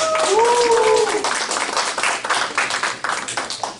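An audience at a referral award ceremony during a business lecture claps for an honoree called up front; a burst of applause carries on for a few seconds, with a whistle-like tone early and voices talking over it.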